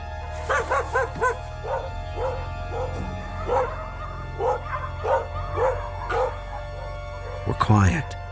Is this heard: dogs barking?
yes